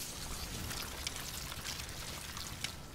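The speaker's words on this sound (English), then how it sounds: "pour that fire out" Water pours onto a fire in A Plague Tale: Innocence, a steady rushing splash and hiss with soft crackling drips, faint and continuous for a few seconds.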